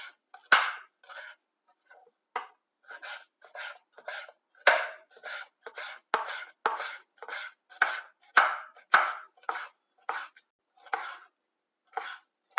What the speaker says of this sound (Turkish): Kapya biberlerimizi de ince bir şekilde doğruyoruz.